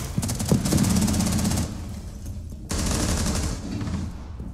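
Rapid gunfire from the video game Rainbow Six Siege, dense bursts of loud automatic shots that stop briefly and then resume, with no talk over them.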